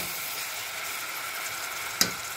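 Luffa (tharoi) frying in a pan gives a steady soft sizzle that runs continuously, broken near the end by one sharp clink or stir.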